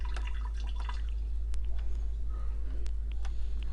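Acrylic liquid monomer for nail work is poured into a bottle, giving a run of small drips and liquid ticks close up over a steady low hum, with no talk.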